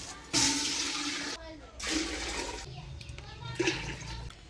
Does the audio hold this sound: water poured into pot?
yes